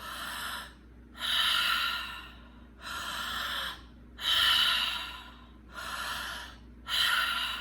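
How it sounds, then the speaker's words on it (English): Slow, deliberate breaths drawn in and pushed out through the mouth during a breathwork exercise, close and audible, six long airy cycles separated by short pauses. "I want you to keep breathing in through your mouth"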